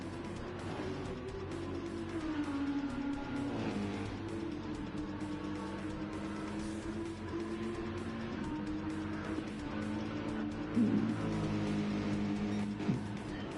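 A race car engine at Road Atlanta, the number 9 Audi, drones loudly and steadily as it passes on track, with pitch shifts and brief tire squeals late in the pass.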